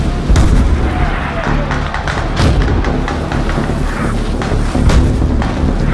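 Heavy booms and thuds roll through a Battlefield 3 battle in repeated loud blasts, dense and close, while someone talks over the din.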